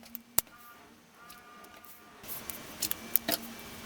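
Scissors snip through an oversized t-shirt to cut it into ties, giving a few soft, brief cuts in a quiet room, with a clearer cluster of snips toward the end.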